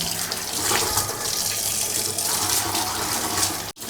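A tap runs steadily into a sink while a dosa griddle is washed with soap, a close, loud, even stream of water that cuts out briefly near the end.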